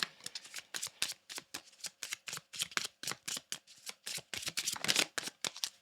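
A tarot deck (Twin Flame Ascension) is shuffled by hand at close range, giving a rapid run of crisp riffling card flutters with steady rhythm and no talking.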